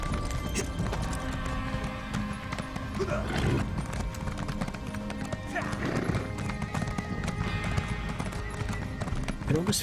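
Horse galloping in The Elder Scrolls Online, a rapid steady clip-clop of hooves with an occasional whinny, heard up close under people talking.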